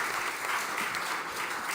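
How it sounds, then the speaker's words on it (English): A conference audience applauds a panel on food-system financing and subsidies, a brief, even wash of clapping from a mid-sized room heard alone. "Please give the panel a round of applause."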